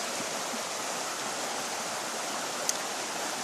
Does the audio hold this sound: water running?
yes